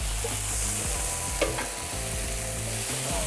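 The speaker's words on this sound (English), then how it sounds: "Who knows sauteing vegetables could be so exciting?" Vegetables sautéing on a Vulcan versatile chef station, a continuous close sizzle over a dense low rumbling hum from the equipment, with one brief clink of a utensil and no talk.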